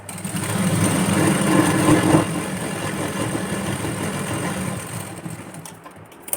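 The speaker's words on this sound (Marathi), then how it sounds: "आपल्याला इथे एक शिलाई देऊन द्यायची आहे आपल्याला मेन फॅब्रिकवरती शिलाई द्यायची नाही" A sewing machine runs steadily for about five seconds, stitching along the lining of a padded blouse, then slows and stops near the end with quieter handling noise.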